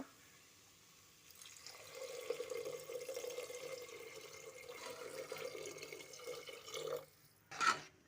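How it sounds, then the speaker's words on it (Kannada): Water poured into a pot of cooking potato saagu, a soft steady pouring splash for several seconds, fairly faint, ending with a short sharp clink. "ಇದಕ್ಕೆ ಸ್ವಲ್ಪ ವಾಟರ್ನ ಆ್ಯಡ್ ಮಾಡೋಣ"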